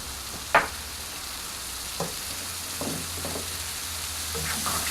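Masala with passata cooks in a pan with a soft, steady sizzle, broken by a few faint stirring scrapes and taps.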